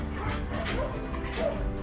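French bulldog whimpering and yipping in a few short, faint bursts, close by, with little else around.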